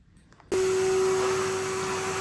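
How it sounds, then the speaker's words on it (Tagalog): Vacuum cleaner switching on abruptly after a brief quiet moment, then running with a steady high whine and broad airy roar while cleaning the floor in a home, close and loud. "I-vacuum lang siya mga loves para ano ba, walang masyadong alikabok"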